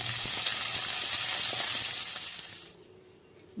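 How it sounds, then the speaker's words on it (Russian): Zucchini slices sizzle in vegetable oil in a frying pan, a steady close hiss and crackle that fades out after about three seconds. "И обжариваем их на сковороде на растительном масле."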